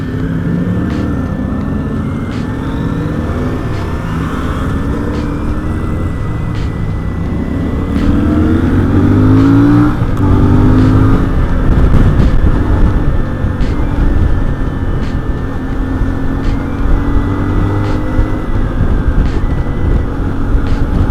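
A CF Moto Ibex 450 motorcycle being ridden, its engine humming steadily with a rising and falling tone as it accelerates, heavy wind rush over the microphone throughout, near and loud.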